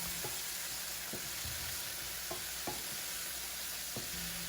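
Chicken seasoned with salt, pepper and ground ginger sizzles steadily in a pan while a utensil stirs it, with several brief scraping knocks over the frying hiss.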